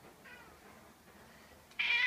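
A cat at an adoption shelter gives a short, faint, distant meow, then a louder, closer meow cuts in at the very end over low room noise.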